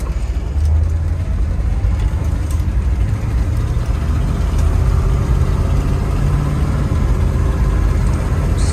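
Engine of a 1961 Ford Galaxie Starliner on the road, a loud, steady low rumble and drone that continues for nearly nine seconds with little change, heard from inside the car and with no voices.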